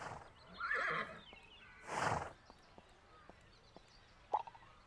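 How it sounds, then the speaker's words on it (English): A horse in The Unicorn Princess video game whinnies twice as its rider dismounts, followed by a few soft hoof clops and a brief thud, heard clearly with no talking. "I can only enter Ramona's store on foot, so I need to dismount."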